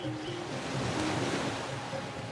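Steady wash of ocean surf rolls through a Divinity: Original Sin game scene, a continuous close wave roar with a breezy hiss and no talking.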